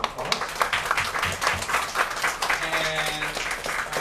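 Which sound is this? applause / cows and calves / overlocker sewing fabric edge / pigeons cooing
applause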